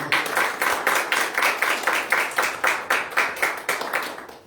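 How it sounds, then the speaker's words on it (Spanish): Rhythmic clapping fills a church service, the congregation striking hands together in a steady, even beat of about three claps per second, close and moderately loud throughout. "Démosle un fuerte aplauso al Rey de Reyes, hermanos"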